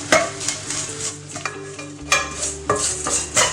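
Grated coconut and fennel seeds roast in a pan for a potato curry, with a spatula scraping and stirring in repeated strokes over a light sizzle, close and fairly loud.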